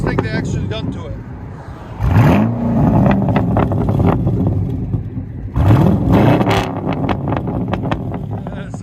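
A 2009 Pontiac G8 GT with a 6.0L V8, true dual exhaust and muffler delete barks through two sharp revs, each rising to a loud roar and falling back to a rumbling idle, recorded close by.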